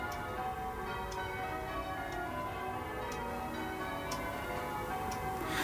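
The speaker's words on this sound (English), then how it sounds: "we venture around to the front of the church where the bells are pealing in spring on this beautiful May spring morning" Church bells peal outside a church on a spring morning in May, their steady ringing strikes recurring about once a second over a continuous wash of ringing and outdoor ambience, moderately distant.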